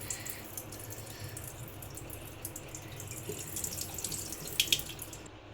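Tap water runs steadily into a sink while soaked maize grits are rinsed, a close, continuous splashing stream with a few louder splashes toward the end.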